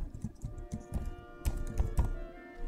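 Someone types a search on a computer keyboard, producing a quick irregular run of close, clacking keystrokes with a few heavier key thumps.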